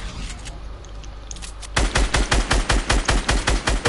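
Rapid automatic gunfire in a Fortnite match bursts in after a quiet stretch, a loud, close, evenly spaced string of shots continuing to the end with no talk over it.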